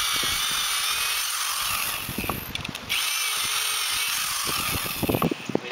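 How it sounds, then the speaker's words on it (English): A power drill whirs steadily close by, grinding and biting through thick wood for a firewood rack, with uneven crackling bursts as it works through. "now we're going to drill through the thicker side"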